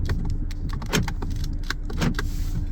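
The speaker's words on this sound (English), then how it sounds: "Quite fancy and quite loaded sort of noise that comes from these locks." Door locks of a 2024 Jeep Compass 4x2 Black Shark actuating as they lock and unlock, a few sharp close mechanical clunks and clicks inside the cabin with no talk.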